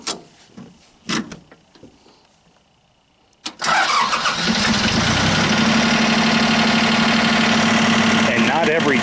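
John Deere 1050 tractor with a sometimes balky starter, a few knocks and a brief crank before the engine catches and bursts into a loud, steady rumbling idle that carries on to the end, close by.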